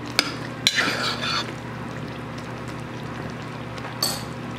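Apple cinnamon dessert being stirred in a crock pot, a few soft spoon scrapes and clinks against the pot at the start, then a quiet, steady wet shuffle with a brief clink near the end.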